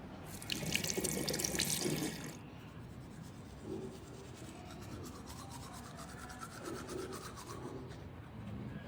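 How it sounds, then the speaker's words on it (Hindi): Tap water runs steadily at a bathroom sink during tooth brushing and bathing, with a rough rubbing, scrubbing texture that is loudest at first and then settles into a continuous softer flow. "फटाफट ब्रश करते हैं और नहाते हैं"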